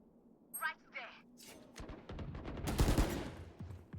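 Gunfire in the tactical shooter game Valorant, a short burst of rapid shots over about a second after scattered sharp sounds earlier, loud and close in the mix, with a voice talking alongside.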